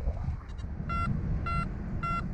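Anfibio metal detector sending out three short, evenly spaced beeping tones during outdoor field testing, steady and clear above low background rumble.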